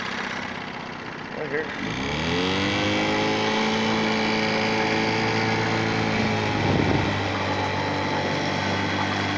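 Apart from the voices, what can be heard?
old four-wheel drive van engine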